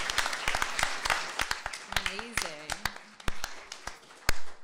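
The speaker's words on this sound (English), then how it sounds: "can we get another round of applause for our awesome panelists and awesome moderator?" An audience at a panel event claps for the panelists and moderator, sharp scattered handclaps of a modest crowd with a voice speaking over them.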